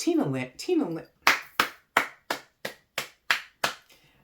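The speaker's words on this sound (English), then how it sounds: "that was just a little round of applause" Eight sharp, close hand claps in an even, steady rhythm, a small round of applause for a choreographer after a short stretch of talking.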